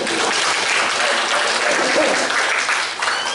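Dense, steady applause fills a room at a Golkar party gathering in Jember, a continuous crackle of many hands clapping at full volume, briefly easing near the end.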